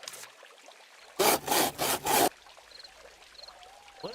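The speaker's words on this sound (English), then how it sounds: "What did it sound like they were sawing the pie?" A sawing sound effect from the video game Little Witch in the Woods plays as four loud, rasping back-and-forth strokes in quick succession, set against quiet game ambience with soft chimes.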